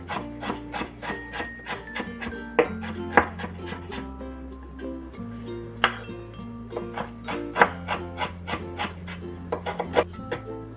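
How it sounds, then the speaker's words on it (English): A knife minces fresh ginger on a cutting board for Cantonese corn soup with minced chicken, producing a long run of quick, crisp, evenly spaced chops, close and clear, with no talking. "let's mince the ginger"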